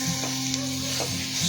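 Chickpeas stir-frying with chana masala powder in a pan give a steady close sizzle, with a few soft stirring scrapes and a low constant hum underneath, no voices.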